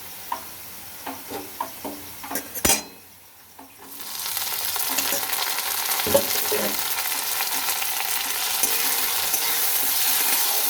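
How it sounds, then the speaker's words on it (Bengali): Tomato and onion frying in a pan: a few faint clinks and stirs at first, then a brief lull before a loud, steady sizzle rises and continues to the end. "এবার টমেটোটা দিয়ে একটু ভেজে নেব।"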